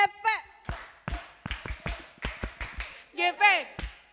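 A youth group fellowship's rhythmic group clap chant, a run of sharp, evenly spaced claps in sets, mixed with short cheering voices near the start and end.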